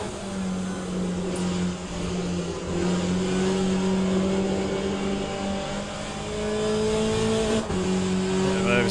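A Ferrari race car's engine drones in the Le Mans Ultimate racing game during a multiplayer race, with a loud, sustained tone that shifts pitch through gear changes, plus other cars nearby and a brief tire squeal.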